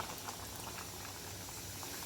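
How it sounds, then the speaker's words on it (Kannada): A pot of bottle gourd buttermilk curry bubbles and simmers steadily, a dense close-up burble of boiling liquid with small pops throughout. "ಇಲ್ಲಿ ಒಂದು ಕುದಿಯೋಕೆ ಶುರುವಾಯಿತು"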